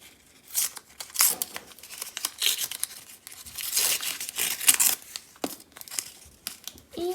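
Paper surprise packets are torn open and crinkled by hand in quick, irregular bursts of ripping and rustling, close and fairly loud, with brief pauses between handfuls.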